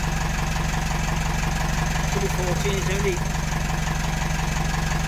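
A narrowboat engine idles steadily with a continuous low, throbbing drone, while someone talks over it throughout.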